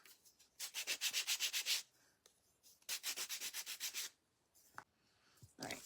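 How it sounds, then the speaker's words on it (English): Sandpaper rubs along the edges of small wooden craft pieces in quick back-and-forth strokes, close by, in two rhythmic bursts of about eight strokes each, followed by a few scattered scrapes. "let me give them a little sanding on the edges here"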